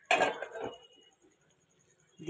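Metal utensil scraping and clinking against a cooking pot while stirring fried spices for potato curry, a brief burst, then quiet with faint rattles, a short clank at the end.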